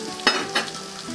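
Shrimp tossed into a hot pan of diced fresh tomato and vegetables, two quick stirring scrapes over a continuous close crackling sizzle.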